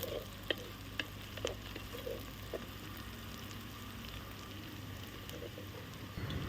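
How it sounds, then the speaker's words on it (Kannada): Onions stirred in a frying pan for a cauliflower fry, giving a quiet, steady sizzle with a few soft spoon scrapes and taps spaced through it, heard alone without talk. "ಮತ್ತೆ ಒಂದು ಸಾರಿ ಚೆನ್ನಾಗಿ ಮಿಕ್ಸ್ ಮಾಡ್ಕೊತಾ ಇದ್ದೀನಿ."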